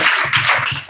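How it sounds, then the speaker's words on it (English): Audience clapping at a storytelling festival held at a high school, a short loud rapid burst of many hands, close and continuous. "Clap him."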